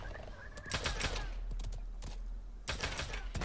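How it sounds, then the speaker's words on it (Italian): Gunshots in the video game Realm Royale come as rapid, crackling bursts of fire in a couple of clusters, set against a steady background of game noise and ambience. "non capisci da dove provengono gli spari"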